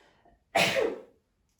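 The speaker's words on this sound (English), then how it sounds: "I've just made myself want to sneeze." A single sharp sneeze bursts out after a faint breath, loud and close, then trails off into quiet.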